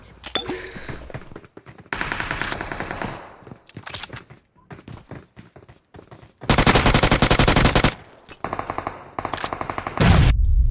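Gunfire in the mobile shooter game BGMI: loud bursts of rapid automatic fire and single shots, coming in several volleys separated by brief pauses.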